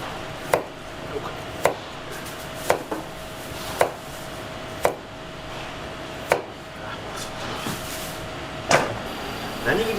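A knife chops vegetables on a cutting board in sparse, irregular strikes, with a faint steady hum and quiet background murmur.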